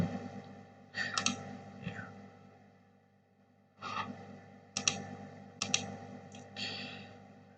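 Fingers type on a computer keyboard in quiet, close bursts of rapid key clicks separated by short pauses.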